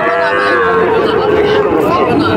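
Loud, drawn-out cattle moos fill the Panchbibi cattle market, overlapping in a noisy, crowded setting with a steady background din.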